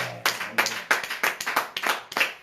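A church congregation claps together after a prayer, about eight sharp, evenly spaced claps in a steady rhythm, fairly close and loud, with no voices over it.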